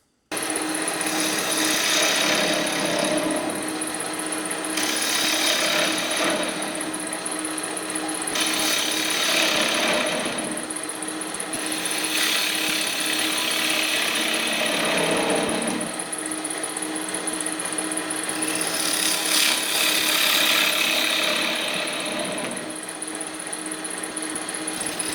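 A wood lathe spins while a tool hollows the inside of a mystery-wood box lid, a continuous loud whirring and scraping that rises and falls in long passes for about twenty-five seconds.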